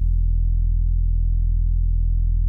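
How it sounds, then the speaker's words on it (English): One sustained low sub bass note on E, from the Serum saw wavetable preset Bass South, drones steadily and alone with a smooth, even buzz and no rhythm or voices. "I added this really low sub bass"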